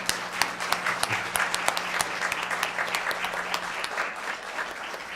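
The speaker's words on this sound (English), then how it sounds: "Let's give our panelists a round of applause" A conference audience applauds the panelists after a discussion, a sustained patter of many hands clapping at moderate distance that thins out toward the end.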